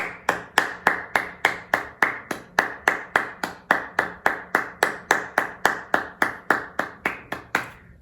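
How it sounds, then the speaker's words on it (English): A single pair of hands claps in a slow, even rhythm, each sharp clap ringing out in a roomy space, around two dozen claps in a steady beat with no voices. "A round of applause for all my partners in crime."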